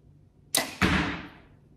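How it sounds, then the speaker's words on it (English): A heavy 2315 arrow with 200 grains up front is loosed from a bow, giving a sharp string snap followed at once by a second louder thump and a whooshing release that fades over about a second, close and alone. "let's see if you can hear the difference in this arrow going through the bow."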